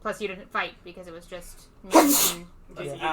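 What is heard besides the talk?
sneeze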